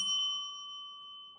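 A single bright notification bell ding rings out clearly and decays over about a second and a half, alone.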